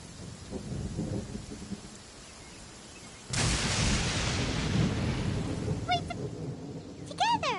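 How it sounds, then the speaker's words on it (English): Rain and thunder in the video game Genshin Impact: steady rainfall, then a loud rumbling thunderclap that leaves heavier rain, with brief tonal game sound effects near the end. "It's raining again?"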